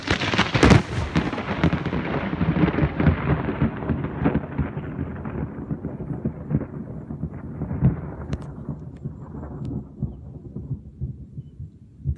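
Thunder from nearby lightning strikes booms in a heavy crack, then rolls and rumbles away over several seconds, loud and close, slowly fading with a second lighter rumble near the end.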